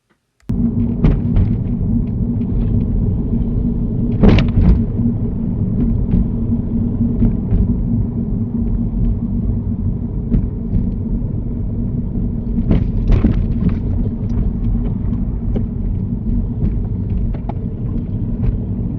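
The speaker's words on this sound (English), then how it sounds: "You go over these speed bumps far too fast, Marianne." A car on a driving test route in Sunderland rolls over speed bumps, its engine rumbling steadily up close with a couple of distinct thumps and knocks from the suspension as the wheels go over.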